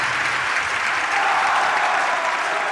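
Sustained applause from a large arena crowd at a women's table tennis quarterfinal of the 2012 World Team Championships, dense steady clapping throughout with no pauses.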